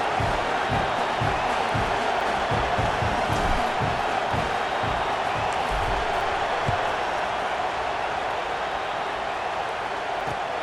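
A steady, dense roar of a stadium crowd in the EA Sports College Football 26 video game, continuous and fairly loud throughout with faint rhythmic thumps underneath and no clear voices standing out.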